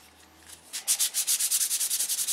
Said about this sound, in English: We want to sand this all off, or sand it to where it's perfectly level.